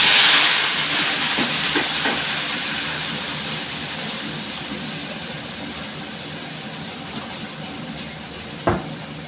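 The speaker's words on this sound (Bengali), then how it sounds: "দেখো গোটা জিরা ফোড়ন দিয়ে দিচ্ছি।" Whole cumin seeds sizzle in hot oil, a loud hissing spatter that starts strongest and slowly fades, with a sharp clink near the end.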